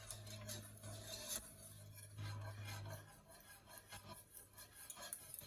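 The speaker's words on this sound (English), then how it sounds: "continue stirring continuously while the chocolate melts" Chocolate melting in a pot is stirred steadily with a utensil, making soft repeated scraping and rubbing strokes against the pot alongside a faint low hum.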